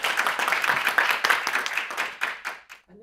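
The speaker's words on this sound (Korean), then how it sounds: "박수로 맞이해 주시면 감사하겠습니다." An audience at a volunteer-studies society academic conference claps to welcome the society president to the podium, a fairly close patter of hands that thins out and fades to a stop near the end.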